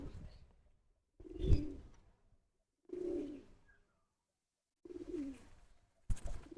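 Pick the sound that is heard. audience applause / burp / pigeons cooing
pigeons cooing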